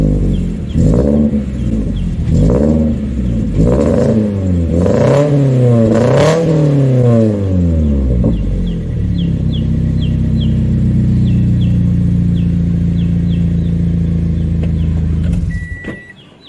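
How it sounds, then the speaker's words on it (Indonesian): A Toyota GT86 boxer engine is revved repeatedly in sharp bursts, rumbling up and down in pitch, then settles into a steady idle before cutting off. "kurang lebih suara boxernya seperti itu ya"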